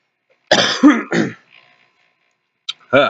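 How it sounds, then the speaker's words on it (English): A few raspy coughs and throat clearings, close and fairly loud, come in two bursts separated by a short pause. "I gotta cough again."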